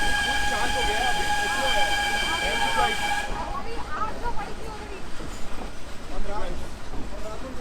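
Steam toy train of the Nilgiri Mountain Railway near Ooty, a sustained shrill steam whistle giving way to hissing steam and the rhythmic rumble of carriages on rails, close and loud, with voices in the background.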